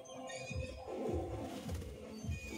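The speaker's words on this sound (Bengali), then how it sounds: "লাল চোখো পায়রা আছে এটা।" Red-eyed Madrasi pigeons coo repeatedly in a high-flying pigeon loft in Howrah, a series of soft, low, rhythmic coos close by.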